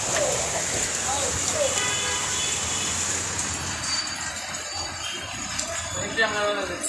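Steady rain pours down on a busy street snarled in a heavy traffic jam, a constant hiss of drops filling the whole stretch with faint voices in the background.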